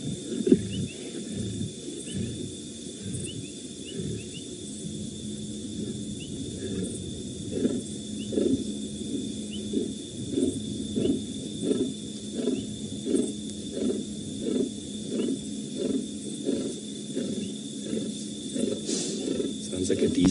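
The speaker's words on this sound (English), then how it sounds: "That is a feeding noise that lions will do" A lioness feeding over the remains of a kill on an evening safari drive, giving low rumbling, pulsing growls and chewing noises, moderately distant under steady insect and engine hum, with faint talk at times.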